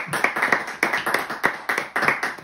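A sparse, close burst of applause from a small group, given as an audience sound effect during a Dead by Daylight board game session, with quick uneven clap bursts repeating over a few seconds.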